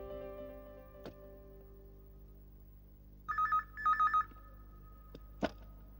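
An office telephone rings in two short electronic bursts, fairly quiet against a faint background with a couple of small knocks around it.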